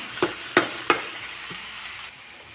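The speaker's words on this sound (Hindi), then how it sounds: "अच्छे से चला के और साग को भून लेती हूँ।" Chickpea and mustard greens saag is stirred and fried in a pan, with a few sharp scraping stirs over a soft continuous sizzle that fades out toward the end.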